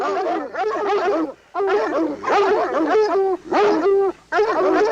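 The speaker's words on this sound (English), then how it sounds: "the dogs" Several dogs bark and yelp in rapid, overlapping bursts from a haunted house sound effects record, loud and close, with brief gaps between volleys and no speech.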